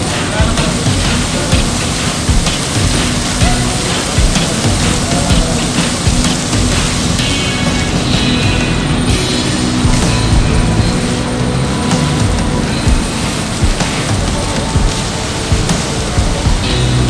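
A hose sprays water hard during a fire safety drill at a factory, a loud continuous hissing rush that runs the whole time with no break.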